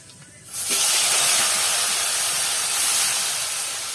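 Fish sizzles in hot oil in a pan, a loud steady frying hiss that bursts in after a quiet half second and holds strong and close to the end.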